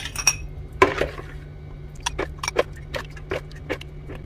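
Glass and dishes clink and tap while eggless cake batter for a hazelnut cake is portioned out into a drinking glass, a series of light, irregular chinks and scrapes over a low steady hum.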